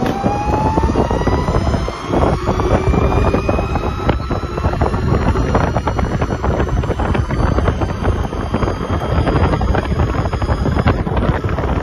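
An Ather 450X electric scooter with about 30,000 km on it rides along, heavy wind buffeting the microphone over a steady road rush, with a faint high motor whine gliding upward in pitch throughout.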